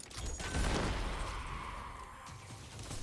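A solar linear fusion rifle in a video game fires loud charged bursts, with a heavy blast around the half-second mark and a rumbling tail that fades away.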